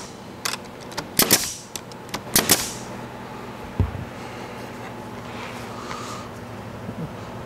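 A nail gun fires into a wooden brace on a glued paint drying rack, giving several sharp, close pops, some in quick pairs, over a steady background hum.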